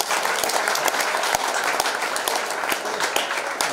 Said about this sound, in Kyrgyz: кол чаап койчу